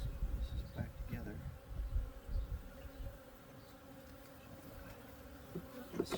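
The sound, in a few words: bees buzzing around backyard apiary hive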